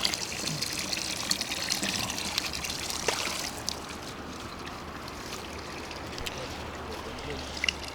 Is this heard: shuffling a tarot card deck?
no